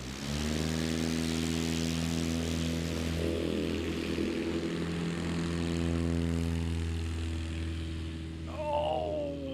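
A STOL propeller aircraft engine drones steadily and loudly through a short-takeoff-and-landing competition, its harmonic hum holding near and constant with slight swells as the plane touches down and lifts off again.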